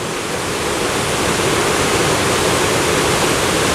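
Loud, steady roar of water surging through open control gates near a canal lock, a dense unbroken rush with no pauses.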